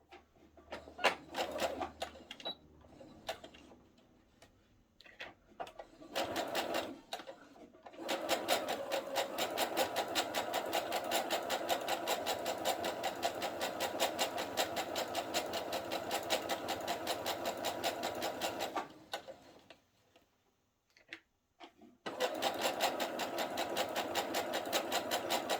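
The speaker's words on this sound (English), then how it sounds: "Okay, so now I'm going to stitch down this side." A sewing machine stitches down the side of a garment's partial placket, running in long steady rapid bursts with brief pauses and a stop, close and clear with no talk.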